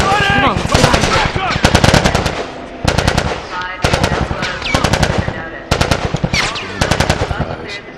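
Rapid automatic gunfire in The Last of Us, loud close bursts of machine-gun shots repeating in short volleys separated by brief pauses, with faint voices underneath.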